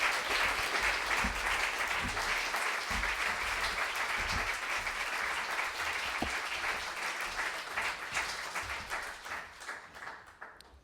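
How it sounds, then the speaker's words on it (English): An audience gives a big round of applause to Francesca Maxwell at a jam session, sustained and fairly loud clapping that holds steady before thinning out and fading toward the end. "Big round of applause for Francesca Maxwell,"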